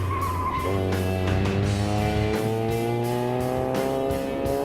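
A drift car lifting off the throttle through a grip section, engine note falling and shifting in pitch as it rides through the corner, loud and close from onboard with a constant rushing wind noise.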